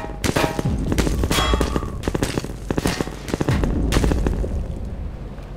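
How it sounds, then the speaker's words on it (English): Gunfire in Half-Life 2 from Combine soldiers, with loud, rapid bursts of shots and booming impacts coming in clusters, close and punchy, with short gaps between volleys. "I'm getting shot at."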